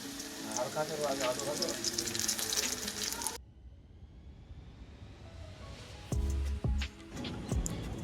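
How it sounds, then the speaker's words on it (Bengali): Potatoes frying for biryani hiss and sputter up close in a dense, rain-like sizzle that drops off sharply partway through, followed by quieter background noise and a few knocks. "এই যে আলুটা পুরো লাল লাল মতো প্রায় অনেকটা ভাজা হয়ে গেছে"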